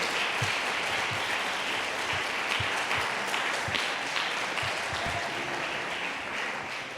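A church congregation applauds the Lord during a sermon, a broad, even wash of many hands clapping at moderate distance, fairly quiet and sustained for several seconds.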